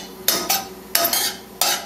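Whole cumin seeds dropped into a pan of hot oil in a home kitchen, giving several sharp bursts of close sizzling and crackle that flare up and fade in short separate surges.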